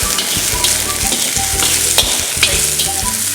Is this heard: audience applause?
no